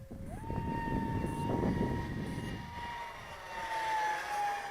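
Jet-powered Arrows RC Viper model airplane flying steadily overhead, a sustained whine with a tone that rises then slowly falls, moderately loud and continuous with no talk.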